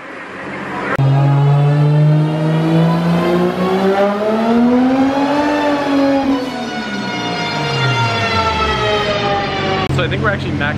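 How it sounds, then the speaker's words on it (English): A BMW 335i fitted with a big turbo revs hard on a dyno, its loud engine note rising to a peak and then falling away over several seconds, before a sharp pop at the end. "So I think we're actually maxing out the load on the dyno right now."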